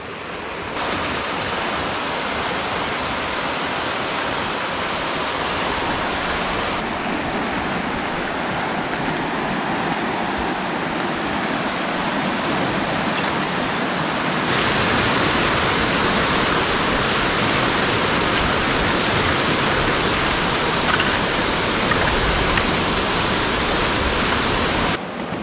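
The Simang river rushes below a bamboo hanging bridge in the hills of Arunachal Pradesh, a loud, continuous broadband roar of flowing water that stays steady throughout.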